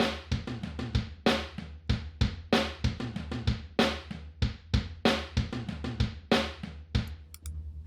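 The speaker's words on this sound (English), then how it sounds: "this will be a room mic that's close to the drums, and it sounds like this." Drum kit picked up by a room microphone placed close to the drums: a steady, punchy groove of kick, snare and cymbal hits with a short natural ambience, loud and alone, ending on a fading cymbal.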